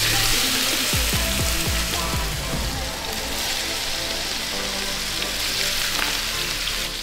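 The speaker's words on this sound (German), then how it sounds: "Also als erstes das Hackfleisch anbraten, weil eine Bolognese, eine originale Spaghetti Bolognese, 2 Stunden muss die mindestens kochen." Minced beef browning in a pan as the first step of a spaghetti bolognese, a loud steady sizzle and crackle with a few clattering stirs near the start, no voices.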